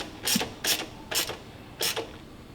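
The throttle linkage on a new Holley carburetor fitted to a 1965 Chevy C-10 is worked by hand, giving four quick mechanical clicks that snap back at a steady pace, each followed by a short pause.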